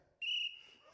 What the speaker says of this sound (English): He will blow his whistle, which he's going to blow right now